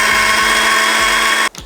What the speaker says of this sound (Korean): 이제 아까 말씀드린 재료를 믹서에다가 갈아가지고 준비할 건데